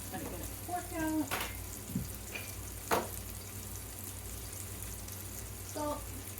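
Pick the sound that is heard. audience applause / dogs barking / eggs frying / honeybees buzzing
eggs frying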